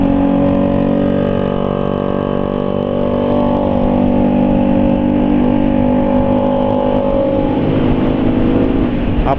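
A motorcycle engine with a loose, leaky exhaust joint runs at a steady idle. It makes a loud, close, continuous drone with a rough, buzzing edge.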